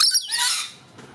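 Pet birds kept indoors let out a loud, harsh squawk and chirp close by, a short bright burst that fades quickly into quiet.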